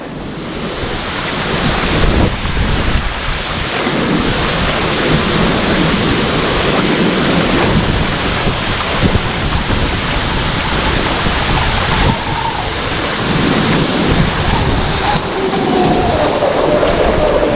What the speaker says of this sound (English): It's a beautiful sight to see a boat this big flying along the water though.